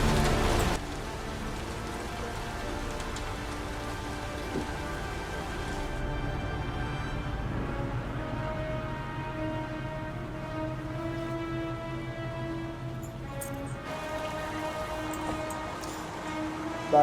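Heavy rain in the video game Heavy Rain, a steady dense patter of downpour over layered game ambience and low sustained tones, continuous and even throughout.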